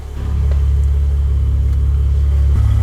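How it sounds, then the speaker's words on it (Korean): A Maserati Levante S engine in sport mode idles with a deep, throaty exhaust rumble that swells slightly as it revs, steady and close with no talking. "배기 소리가 굉장히 좀 걸걸하죠"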